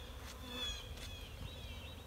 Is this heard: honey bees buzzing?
yes